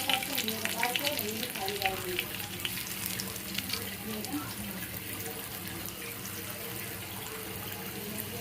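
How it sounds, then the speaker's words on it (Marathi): Karli fish frying in hot oil with curry leaves gives a steady, crackling sizzle that carries on without a break, with soft clinks and splashes of movement in the pan. "आता ह्या तेलामध्ये आपल्याला कढीपत्ता टाकून घ्यायचा"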